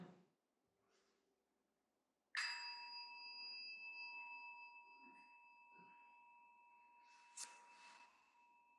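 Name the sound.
meditation bell being rung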